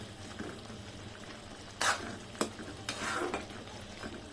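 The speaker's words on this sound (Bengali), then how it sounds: "এখন আবার একটু নাড়াচাড়া দিয়ে নিচ্ছি, প্রায় হয়ে আসছে" Dried Bombay duck (loitta shutki) curry being stirred in a pan, with soft scraping sizzle and a few sharper spoon-against-pan strokes in short bursts, near and alone.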